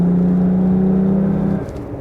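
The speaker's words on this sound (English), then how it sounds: "at full wide open throttle, you do hear it a little bit more" Jeep engine with a cold air intake at wide open throttle, a loud steady intake drone and hum close by that holds for about a second and a half and then eases off.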